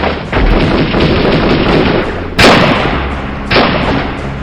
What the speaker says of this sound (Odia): ଆଖି ପିଛୁଳା ଗୁଳି ବର୍ଷା କରିଥିଲେ।